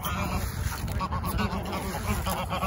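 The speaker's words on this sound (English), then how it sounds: "I need to catch this duck." Loud, dense honking and quacking from a flock of fowl, with a hurt duck being chased among them, continuous and close throughout with no speech.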